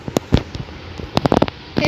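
Grenade explosions in the mobile game Mini Militia, heard as a scattered series of sharp cracking bursts over steady game noise, with an uneven rhythm and close, moderately loud hits.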